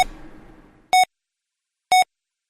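Two short, clean electronic beeps about a second apart, each crisp and steady, following a fading wash of background noise.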